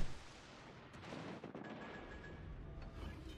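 Naval gunfire from World of Warships Legends: a dense, sustained rumble of distant cannon shells and explosions from warship battles, rolling continuously with broad booming bursts and no speech.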